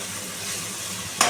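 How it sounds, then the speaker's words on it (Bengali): Potatoes and pumpkin stems cooking in a pan are stirred, giving a steady soft scraping sizzle close by, with a brief louder clatter near the end. "এবারে এটাকে আমি নাড়াচাড়া করে আবার ঢাকনা দিয়ে দেবো"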